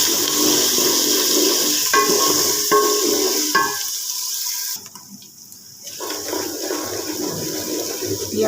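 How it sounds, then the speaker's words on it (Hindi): Garlic-ginger paste frying in a pan over browned onions for an aloo dish, a continuous close sizzle with intermittent stirring clatter that drops to a quieter hiss midway before picking up again. "अब मैं इसमें डालती हूँ लहसुन अदरक का पेस्ट, और इसको भी 3 से 4 मिनट भूनती हूँ।"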